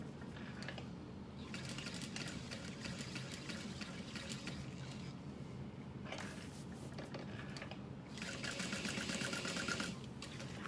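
A sewing machine stitching a diamond clutch wallet runs in a steady, quiet whir, with louder, busier bursts of stitching near the middle and toward the end. Nobody speaks.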